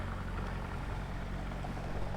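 A steady motor drone from a tourist boat engine running nearby at Thong Krut beach, Koh Samui, continuous and fairly loud with no speech.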